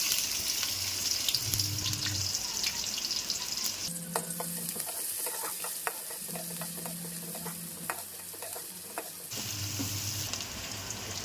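Chopped onions fry in hot oil with turmeric and salt as a goat head curry gets started, a steady close sizzle broken by repeated scraping stirs of the spoon against the pan.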